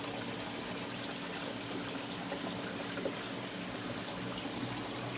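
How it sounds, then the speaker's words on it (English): A creek flows in a steady, gentle trickle, burbling softly and evenly across the whole stretch. No one speaks over it. "Water seems to be flowing pretty good."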